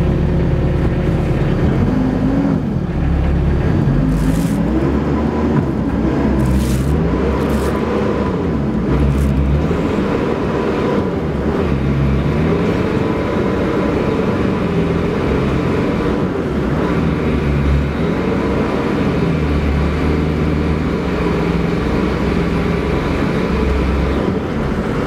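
SHERP all-terrain vehicle driven with its clutches worked hard, a loud continuous engine drone with shifting pitch and rumbling low end throughout, no voices.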